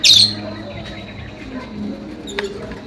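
Lovebirds kept on a rooftop give a sharp, close chirp right at the start, followed by quieter cage rustling and a brief faint click, with no voices.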